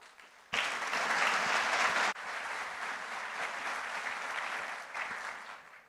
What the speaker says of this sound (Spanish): Así que démosle un fuerte aplauso.